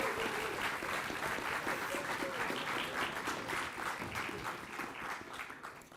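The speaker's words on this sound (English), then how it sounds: "Can you give your supervisors a round of applause" A conference audience applauds its supervisors in a sustained, dense round of clapping that stays fairly even before easing slightly at the end, with faint voices mixed in.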